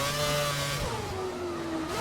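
A Formula One car engine in the F1 2011 video game at Monaco, a continuous high-pitched whine whose pitch slides downward as the car slows.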